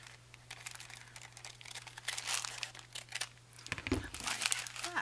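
Washi tape on paper is trimmed at the edge in a junk journal, close crinkly paper rustling and snipping that grows busier in the second half, over a faint steady hum.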